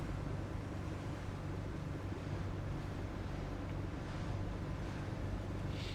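Boat engines in The Last Caretaker run as a steady, unbroken low rumble with a windy, watery hiss on top. The sound stays constant and fairly close throughout.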